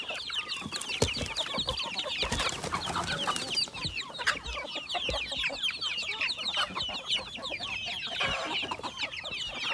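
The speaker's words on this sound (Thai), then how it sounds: "นี่ไก่ดำไก่ดำผสมกับไก่กุ่มนะครับ" Several Thai native black chickens and black-Kum crossbreeds clucking and chattering close by, a continuous busy flock with overlapping calls and no talking.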